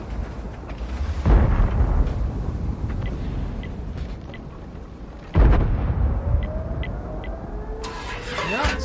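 Artillery gun M40 mod. 65 in a video game firing shells, with two heavy booming shots a few seconds apart over a constant engine rumble and mechanical clatter, then a rising whine and a clank at the end.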